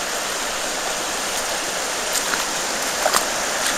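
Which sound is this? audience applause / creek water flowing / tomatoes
creek water flowing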